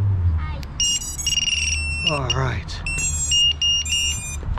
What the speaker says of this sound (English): you hear the dual buzzers that are going off